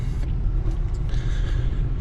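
A Ford 7.3 Powerstroke truck rumbles close by with a steady, deep engine drone as it leaves for the scrap yard, holding an even level throughout.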